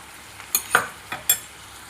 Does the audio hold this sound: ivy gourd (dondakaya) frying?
yes